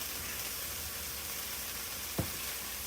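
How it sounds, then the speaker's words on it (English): Cheesesteak filling cooking down in a pan until caramelized, giving a steady soft sizzle and crackle with one brief sharp tick near the end. "We're going to let these cook down till they caramelize a little bit."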